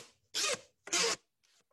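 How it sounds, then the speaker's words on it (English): An index card drawn quickly across the teeth of a comb gives two short, bright buzzing rasps, each about a quarter second, close and alone, followed by a faint brief trace. "first move the index card across the comb slowly and then move it quickly"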